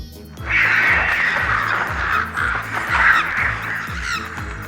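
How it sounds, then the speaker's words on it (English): A flock of crows bursts out with loud, overlapping caws and flapping in a jump scare inside an old church buried underground, from an Exorcist prequel film, harsh and close over a pulsing low rumble. "Just then, a bunch of crows fly by in a jump scare."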